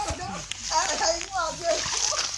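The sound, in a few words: water splashing as people dig for drinking water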